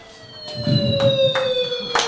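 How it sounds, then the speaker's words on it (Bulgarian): A homemade electric circuit built for a school physics demonstration sounds an ambulance-style siren, a steady thin electronic tone held throughout with a few sharp clicks and bursts over it, with no talking. "Аз направих електрическа верига с звук на линейка и светлина."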